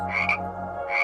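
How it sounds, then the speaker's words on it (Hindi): Frogs croak from a village pond on a rainy evening, a close, continuous chorus of throaty calls with a brief swell near the start and again at the end. "तालाब से मेंढकों की आवाज"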